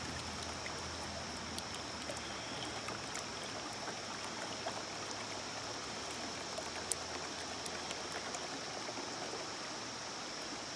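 Water swirls steadily through the riffles of a gold-panning pan at a stream, giving a continuous close rushing and trickling wash with faint clinks of gravel.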